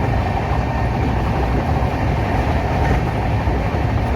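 The Shantiniketan Express 12337 rumbles along steadily, heard from inside a carriage as a loud, continuous low roar with no voices.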